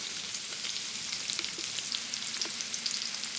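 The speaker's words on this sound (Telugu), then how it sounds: "ముందుగా నూనె వేడి అయిన తర్వాత క్యాబేజీ ముక్కల్ని వేసుకుందాం." Cabbage pieces and onions fry in hot oil in a kadai for street-style chicken fried rice, giving a steady, dense sizzle with a few faint stirring clicks and no voices.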